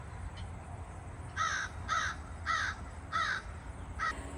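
An outdoor crow caws five times in an even series, each harsh call clear and fairly close above a low steady background hum.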